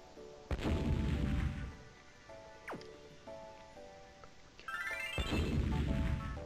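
Bomberman World bombs explode in two heavy, booming blasts a few seconds apart, loud and close over chiptune game music with bright bleeps.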